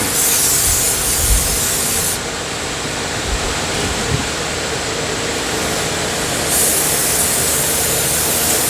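Brake cleaner hissing from an aerosol can onto a brake rotor of a 2013 Nissan Altima 2.5 S, a continuous close spray that shifts slightly in tone partway through, with faint handling thumps underneath.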